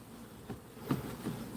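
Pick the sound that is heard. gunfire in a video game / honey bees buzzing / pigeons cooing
honey bees buzzing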